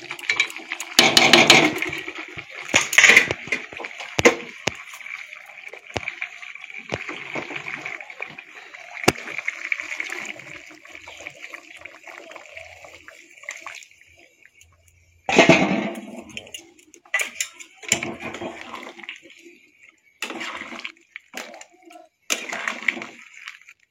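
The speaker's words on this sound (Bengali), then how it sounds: "মাংসটা আমার ভালোভাবে কষানো হয়ে গেছে, এবার আমি গরম জল ঢেলে দেবো।" Hot water goes into country chicken curry that has been frying, with several splashy bursts near the start and a longer loud pour partway through, separated by quieter clattering and intermittent sizzle.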